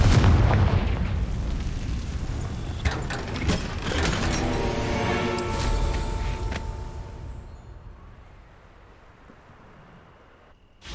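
A Confringo blasting spell exploding in Hogwarts Legacy, a loud booming burst with crackling debris that rumbles on for several seconds before trailing away into near silence.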